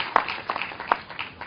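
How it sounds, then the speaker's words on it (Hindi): Brief scattered clapping from a meditation session audience, a few light uneven claps over a muffled, low-quality recording, close and short. "तालियां बजाइए अपने आप के लिए"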